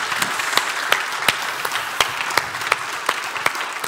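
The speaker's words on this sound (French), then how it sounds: "J'aimerais qu'on t'applaudisse très très fort." An audience claps in appreciation at a French real estate market update, a light, scattered applause of distinct individual claps in an uneven rhythm, fairly close and steady for a few seconds.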